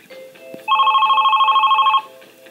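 A telephone rings in a steady electronic warble for about a second and a half, loud and close, set against quiet background sounds.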